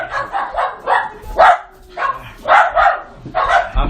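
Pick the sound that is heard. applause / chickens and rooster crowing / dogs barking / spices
dogs barking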